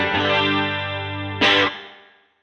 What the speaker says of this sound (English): So the ambience knob actually gives you some reverb